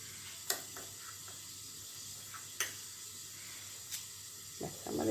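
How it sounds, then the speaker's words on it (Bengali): Pointed gourd (potol) fries in a pan with a quiet, steady sizzle broken by a few sharp pops and clicks. "পটল ভাজা বসিয়ে দিয়েছি"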